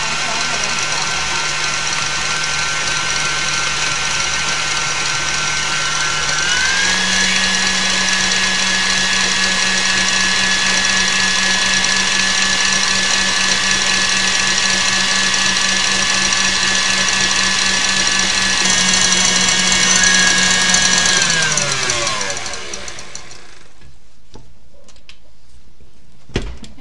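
An electric mixer whips roulade batter to stiff peaks, a loud, steady motor whine that steps up in pitch partway through, holds, then winds down and stops near the end.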